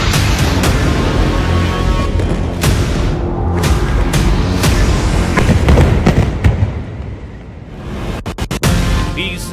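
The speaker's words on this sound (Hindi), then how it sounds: "2000 धमाके।" Explosions from Israeli airstrikes on Houthi targets in news footage: rapid repeated booms and cracks in a dense, loud barrage, continuing for several seconds and then tapering off with a few sharp bangs.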